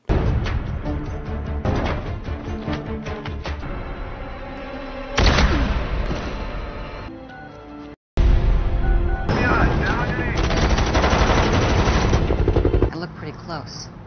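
Loud bursts of gunfire and explosive booms over a dramatic film score, dense and sustained, with a brief silent gap midway.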